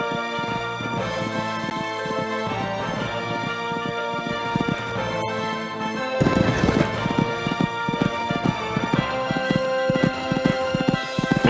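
A horse gallops on a cross-country eventing course in a veteran competition, its hoofbeats a fast, steady clip-clop that grows louder and closer partway through, with no talk over it.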